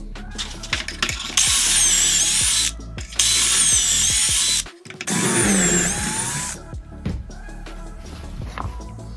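A drill bores pocket holes through a Kreg 720 PRO pocket-hole jig with no dust collection attached. Three loud, close, steady drilling bursts of one to two seconds each are separated by short pauses.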